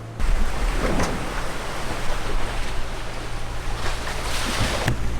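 A sailboat runs wing on wing in light wind of about 10 knots, with a steady wash of water and wind noise and a low engine-like hum underneath, no talking.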